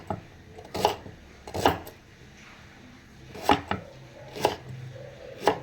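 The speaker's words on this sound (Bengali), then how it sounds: "চলো ঝিরি ঝিরি করে আমি কিন্তু পেঁয়াজ কেটে নিচ্ছি" Onions are sliced finely with a knife on a board, giving six crisp, close chops in uneven bursts, with quiet gaps between them.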